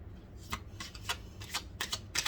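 Cards being shuffled in quick riffling bursts, about six short rustling flurries in a row, close and crisp with no speech.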